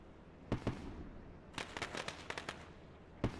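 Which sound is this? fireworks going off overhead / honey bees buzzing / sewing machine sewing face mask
fireworks going off overhead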